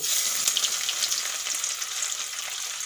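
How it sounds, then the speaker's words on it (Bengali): Chopped onions with black cumin frying in hot oil in a pan, a loud, dense and continuous close sizzle with faint crackling throughout. "পেঁয়াজগুলো খুব ভালো করে ভেজে নেব"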